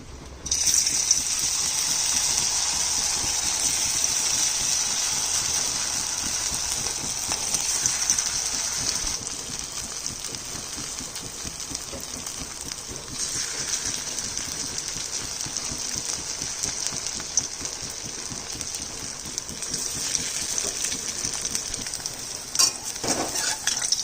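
Okra fritters fry in hot oil over lowered heat, giving a steady, dense sizzle and crackle that runs loud and close throughout, with a few faint utensil taps.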